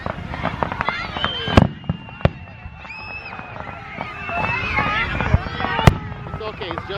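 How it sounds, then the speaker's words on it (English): Fourth of July fireworks go off in a string of sharp, loud bangs and crackling bursts spread irregularly across the clip, with whistling trails and a murmuring crowd and voices underneath. "It's okay, it's just fireworks."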